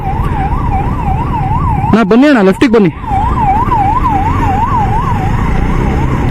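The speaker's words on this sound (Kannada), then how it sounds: "ಯಾವುದೋ ಆಂಬ್ಯುಲೆನ್ಸ್ ಹೋಗ್ತಿದೆ, ಅವ್ರಿಗೊಂದು ಸ್ವಲ್ಪ ದಾರಿ ಮಾಡಿಕೊಡೋಣ" A loud ambulance siren wails up and down continuously, close by, while a man briefly calls out over it.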